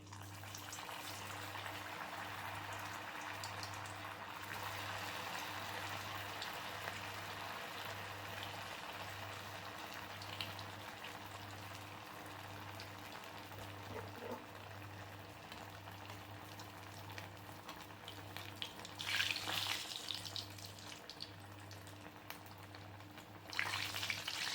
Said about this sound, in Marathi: तेल तापलेलं आहे। आता हे वडे तळून घेऊया।